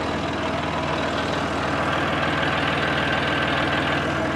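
A heavy truck engine idles with a low, steady rumble and a faint knock as it backs into a ranch shop. The running is continuous and close, with no talk over it.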